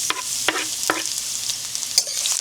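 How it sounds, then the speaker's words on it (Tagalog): Garlic and onions fry in oil in a pan, a steady close sizzle broken by the regular scrape and clack of a utensil stirring them. "Haluin nyo lang para hindi masunog."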